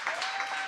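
Brief burst of congregation applause for Karen at a Sunday spiritual center service, steady clapping from a group heard alone for under a second.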